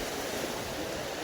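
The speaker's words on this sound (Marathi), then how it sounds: "डेंजर लाटा आहे" Rough sea waves churn and surge against a windy coast during rod fishing in rainy, stormy weather, a steady loud roar of surf and wind filling the short clip with no break.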